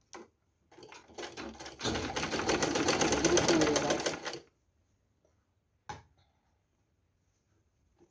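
A sewing machine seams the neckband onto a knitted school sweater in one steady, close, rapid whirring run of about three seconds, with a few scattered clicks before it and a short knock afterward.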